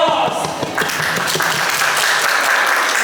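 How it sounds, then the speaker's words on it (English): An audience at a school claps for a grade 3 fan dance performance, a continuous patter of many hands at moderate loudness, with a few sharper nearby claps and thuds mixed in. "Let's give them a round of applause."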